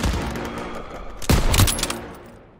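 Heavy gunfire in a Call of Duty: WW2 battle: a sustained fusillade rumbles throughout, then a loud burst of shots and a blast hit at the midpoint before the noise tapers off.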